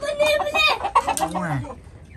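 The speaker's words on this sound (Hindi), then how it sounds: "फैंसी मुर्गी हैं फैंसी मुर्गियाँ" Fancy chickens in white, black and brown cluck and squawk close by on a farm, a busy overlapping mix of calls, with a voice talking among them.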